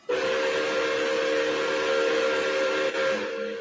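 A steam locomotive whistle, a Reading 6 main whistle with a secondary Nathan 6 chime, sounds one long, loud, steady multi-tone blast with a brief dip near the end before trailing off.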